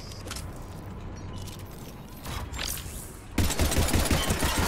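Gunfire from a battle in the video game Mass Effect 3 comes as dense bursts of shots over a rumbling game soundscape, growing louder and heavier near the end.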